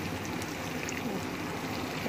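Water pours steadily into a pot of chana mash dal being cooked, a continuous trickling stream held at an even level for the whole stretch with no talk over it.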